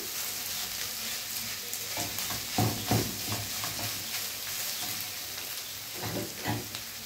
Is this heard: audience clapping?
no